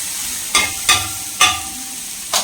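Food sautéed and stirred in a pan for a bread egg omelette, with four loud scraping stirs against a steady soft sizzle. No voices.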